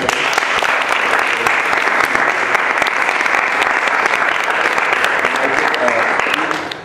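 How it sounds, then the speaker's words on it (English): Steady, dense applause from a class audience fills the whole stretch at an even, fairly loud level, with no break or talk over it. "Heath deserves a big round of applause"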